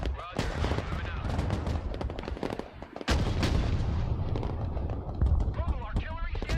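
Dense, loud gunfire and explosions fill a Broken Arrow battle, with rapid bursts and heavy thuds rattling continuously over radio-style voices talking.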